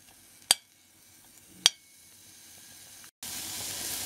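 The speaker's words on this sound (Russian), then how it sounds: "Таким образом тушим перец с луком около 5 минут." Peppers and onion stewing in a pan for a Haitian Ti Malice hot sauce give a faint, steady low sizzle, broken by two sharp clinks of a utensil and ending in a louder burst of hiss.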